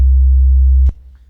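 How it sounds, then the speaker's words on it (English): A steady, smooth synthesizer triangle-wave tone holds at a constant level, then cuts off abruptly, leaving near silence. "Triangle, as you can hear, has a bit more harmonics"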